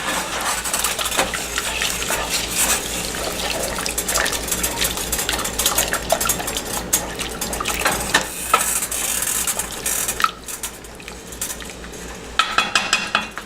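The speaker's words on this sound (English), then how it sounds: "We're going to stir that in." Red bean soup stirred in a pot for a yellowfin tuna medallion dish, with steady metallic scraping and clinking of a utensil against the pot, busy and continuous throughout, a brief lull near the end.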